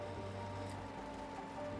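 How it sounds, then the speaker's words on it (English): Steady rain hiss from the racing game Project CARS, a continuous even wash of falling rain with a low engine drone underneath, no voices. "Hang on a second, it started raining again."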